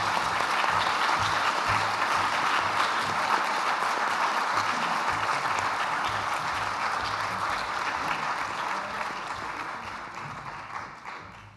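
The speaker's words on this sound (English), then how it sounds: "And some applause for everybody who was awarded." Applause at a school awards ceremony for award recipients, with a large audience clapping steadily and densely at moderate distance, then gradually thinning and fading toward the end.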